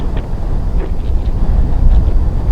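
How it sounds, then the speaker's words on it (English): Strong wind on a hilltop at night buffets the microphone in a steady low roar that swells and eases in gusts, with no other clear sounds. "as you can hear on this hilltop, the wind is gusting pretty good."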